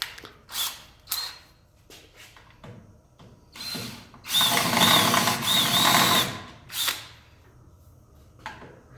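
A power drill with a larger bit drills out a rivet on a 2018 Can-Am Maverick X3 XRC trailing arm guard. Short whirring bursts are followed by a longer, louder grinding run with a squealing pitch, then brief clicks and handling noises.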